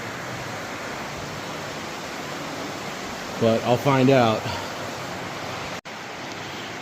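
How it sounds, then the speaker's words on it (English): Water flows steadily through an underground river in a West Virginia cave, a constant broad rushing hiss throughout, with someone talking briefly over it midway. "you can hear that water flowing, so we're getting close to where the river is"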